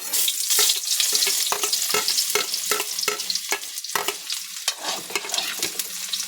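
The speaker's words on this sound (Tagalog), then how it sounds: "Gisa na natin tong bawang sibuyas natin." Garlic and onion sizzle and crackle in hot oil as they are stirred in a pan for a Filipino dinengdeng, a steady frying hiss broken by close scraping stir strokes.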